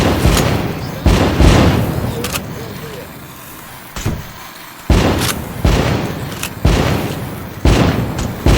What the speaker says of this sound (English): Hey, that one exploded.